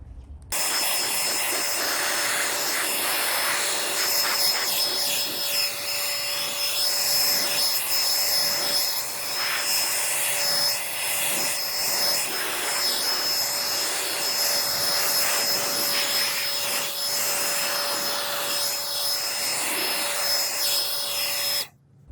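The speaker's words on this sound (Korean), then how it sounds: "이 송풍기를 가장 세게 해서 한번 불어보도록 하겠습니다" A DeWalt DCE100N cordless blower roars steadily at full power, blowing water off a car, for the whole stretch: a loud close whooshing rush with a high motor whine, cutting off at the end.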